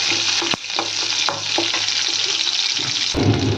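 Garlic sautés in hot oil in a pan for a cluster bean gravy, a constant close sizzle broken by the scrape and clack of a spoon stirring, with no talking.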